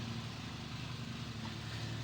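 A China-made electric motor on a 48V controller hums steadily at low throttle, a continuous even drone from the background with no talking.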